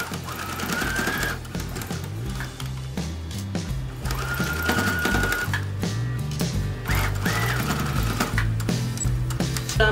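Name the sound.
sewing machine stitching pleats on a pouch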